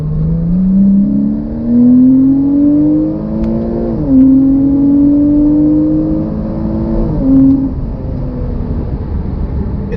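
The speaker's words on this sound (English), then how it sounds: "we pop it down a few gears, can you really feel that engine pulling?" Porsche Boxster S with a manual gearbox, its engine climbing loudly under acceleration from inside the cabin, with a brief dip around a gear change before the revs rise again in a steady, rising drone.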